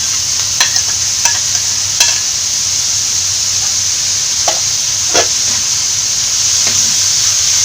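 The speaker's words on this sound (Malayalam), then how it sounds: "ഇതെല്ലാം കൂടെ നന്നായിട്ടൊന്ന് വഴറ്റിയെടുക്കാം" Ginger, garlic and green chili sizzle steadily with fish masala in a pan, a constant hiss of frying broken by a few sharp scraping stirs of a spoon.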